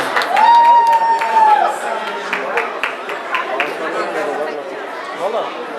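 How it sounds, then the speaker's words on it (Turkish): Wedding guests applaud in a crowded hall, a spread of scattered claps running under loud overlapping chatter and a voice across the whole stretch. "Alkışlıyoruz dayıyı. Alkışlıyoruz."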